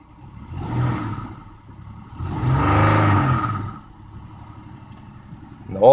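A junkyard Dodge Charger's engine runs roughly nearby, swelling into two revs, a shorter one then a longer, fuller one, before dropping back to a rumbling idle.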